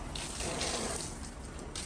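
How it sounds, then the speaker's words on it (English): Hot and cold water run steadily from a bathtub tap during a home inspection, a continuous close hiss and gush that holds even for about two seconds. "Functional flow, hot and cold water."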